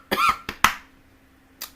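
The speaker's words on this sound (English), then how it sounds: "Sorry about that cough." A person coughs sharply a couple of times up close, followed by a brief pause and a softer final cough.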